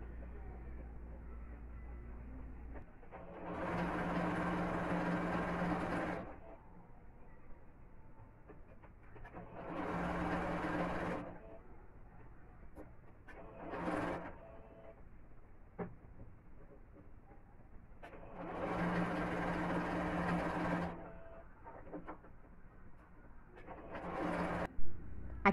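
Domestic sewing machine stitching a gathered ruffle on a strappy dress, running in several bursts of a few seconds each with short pauses and brief clicks between, fairly close with a low hum underneath.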